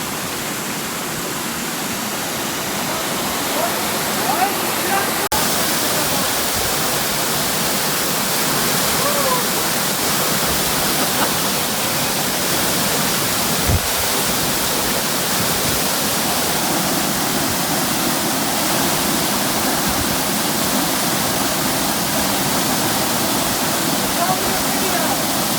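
Steady, loud rushing of a waterfall in the Boundary Waters Canoe Area Wilderness of Minnesota, a continuous broadband roar filling the whole stretch with little change, heard on a canoe trip outdoors.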